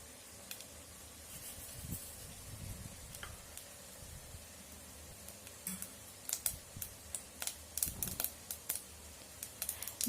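Mustard seeds splutter in hot oil while bitter gourd gravy is being cooked, faint at first and then building into a rapid run of sharp pops and crackles toward the end.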